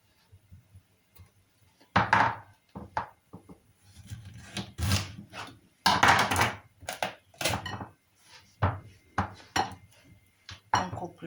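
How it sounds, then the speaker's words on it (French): A knife slices through a courgette on a wooden cutting board, giving a series of crisp chops and scraping rubs in uneven bursts, close and clear with quiet pauses between cuts. "On coupe la courgette."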